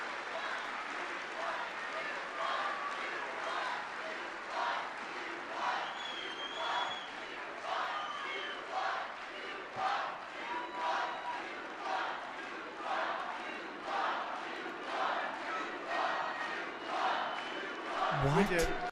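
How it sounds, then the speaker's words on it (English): A large political rally crowd chants and cheers in steady rhythmic bursts, loud and close, filling the space for the whole stretch with a brief sharper outburst near the end. "That's what you hear from the crowd."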